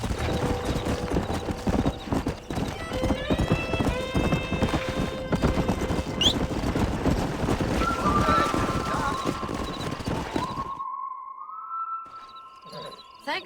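Horses in Red Dead Redemption, a long run of loud, rapid hoofbeats with whinnies and voices mixed in, ending in a quieter stretch with tonal game sounds after the hooves stop.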